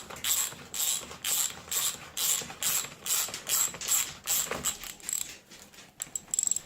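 A socket wrench ratchets in quick repeated clicks while loosening the crank arm on a Specialized Enduro bicycle, a close, fairly quiet series of bursts with small pauses and a faint metallic creak.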